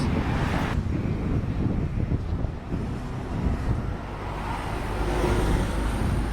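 Strong gusts buffeting an outdoor microphone at a Scientology protest, a continuous loud low rumble that swells and dips throughout.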